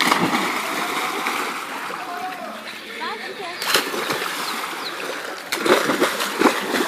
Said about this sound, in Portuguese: Caiu com água fora da piscina.